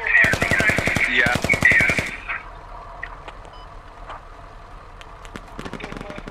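Rapid automatic gunfire in the military shooter game Squad, a dense loud burst of full-auto shots lasting about two seconds, then sparse distant pops over quiet ambience.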